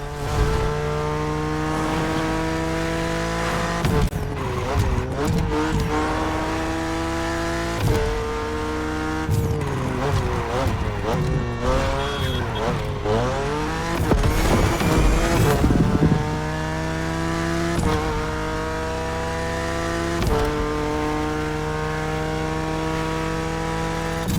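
Steady engine note of a BMW Z4 M40i convertible in The Crew Motorfest, loud and continuous, with repeated revving climbs and gear shifts over a scenic backcountry drive.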